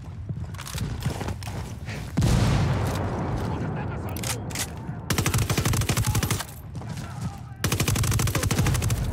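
A firefight in Ghost Recon Wildlands: rapid automatic gunfire rattles in dense bursts, and a frag grenade booms loudly partway through, while voices talk under the shooting.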